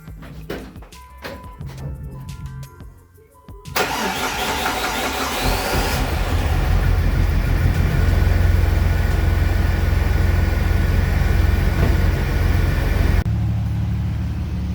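A few clicks and clunks, then a Jeep Wrangler TJ engine with an upgraded fuel system cranks and catches, settling into a loud, steady idle that runs on before a slight drop in level.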